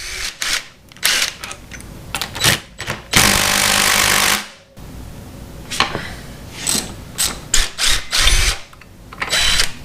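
Bolts on a vintage 1971-78 Honda motorcycle brake caliper, held by two 14mm bolts, come off under a power tool: loud repeated impact-wrench bursts, one sustained rattle of about a second, then shorter clattering hits nearby.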